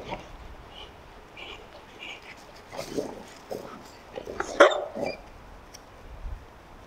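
Boxer dogs bark in several short, faint, scattered bursts, with one sharper bark near the end, mixed with a person talking nearby.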